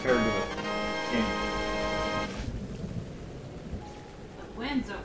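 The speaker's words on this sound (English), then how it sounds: "But you can still hear the rain." Steady rain hiss with low thunder rumbling in The Legend of Zelda: Breath of the Wild on Nintendo Switch, a tonal musical drone fading out partway, then a faint voice near the end.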